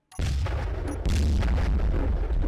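Heavy battle cannon from a weapon mod fires in Space Engineers, two loud booming blasts about a second apart, the second sustaining into a rumbling roar with no talking.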